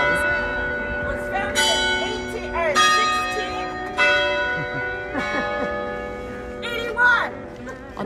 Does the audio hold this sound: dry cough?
no